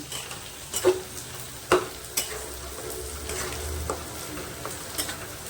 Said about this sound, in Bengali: আবার এটা আমি ভালো করে নাড়ানাড়ি করে এটাকে আমি ভালো করে চাপা দিয়ে রেখে দেবো, শুকনো শুকনো ভাজা যতক্ষণ না হচ্ছে